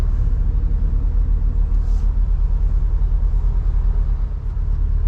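Ferrari 488 Spider convertible cruising on the road, its engine a steady, loud low rumble with constant road and wind noise throughout and no pauses.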